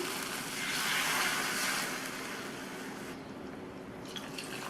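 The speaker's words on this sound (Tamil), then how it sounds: "இது கூட 2 கப் தண்ணி சேர்த்துக்கலாம்" Two cups of water pour steadily into a pan of turnip sambar masala, a broad splashing rush that swells then settles into a softer trickle with light drips near the end.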